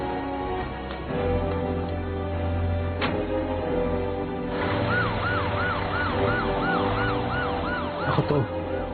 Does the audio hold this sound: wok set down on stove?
no